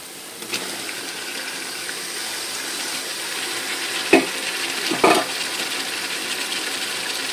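Tomato goes into a sizzling pan of chicken biryani base with ginger, giving a steady close frying hiss broken by a few sharp clinks and scrapes of a utensil against the pan; no speech.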